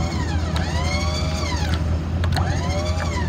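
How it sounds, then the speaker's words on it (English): Small electric tailgate motor on a rusty 2008 Ford F-250 XL crew cab spinning freely without lifting the gate, a steady whirring hum with rising and falling whine sweeps over a low engine idle. "I could hear the little motor spinning, but it doesn't attempt to lift the gate"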